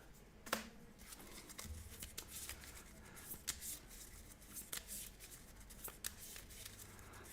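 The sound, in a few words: shuffling cards back into the deck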